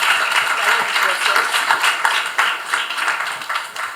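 A lecture audience applauding, steady dense clapping that holds at an even level throughout with no pause.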